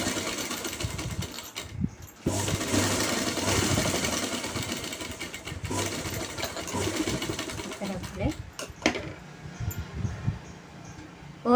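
A sewing machine runs in long bursts edge-stitching a pant belt piece, its rapid mechanical chatter stopping briefly and restarting, close and fairly loud.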